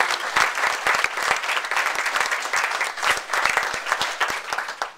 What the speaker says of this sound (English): So I'm going to even allow him to have a round of applause.